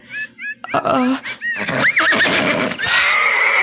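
A horse neighs in a live drama, a loud whinny with rising and falling calls, while voices and other sounds crowd the background.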